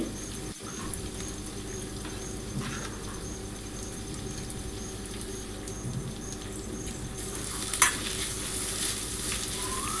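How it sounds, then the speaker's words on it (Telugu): Onions fry in oil until brown in a pan for chicken biryani. A steady, fine crackling sizzle runs throughout under a low background hum, with occasional soft stirring scrapes. "ఈ ఆనియన్స్ అంతా కూడా బ్రౌన్ కలర్లో వచ్చేంత వరకు కూడా ఫ్రై చేసుకోవాలి"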